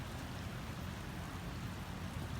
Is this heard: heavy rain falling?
yes